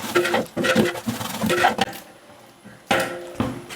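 Chicken biryani mixed in a pot with a few handfuls of coriander leaves, giving close, irregular scraping and clattering from a spoon against the pot in short bursts, pausing briefly before another burst.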